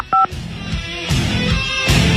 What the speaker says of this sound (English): Let's see if we can get this dude on the phone.